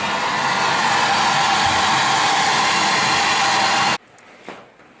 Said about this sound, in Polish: podsuszę sobie teraz e, je w środku trochę suszarką